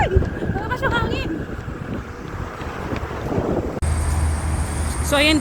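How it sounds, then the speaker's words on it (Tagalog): Strong wind buffets the microphone outdoors near Al Wahda Mall in Abu Dhabi, a steady broadband roar lasting throughout, with brief bits of voice over it. "Malakas yung hangin!"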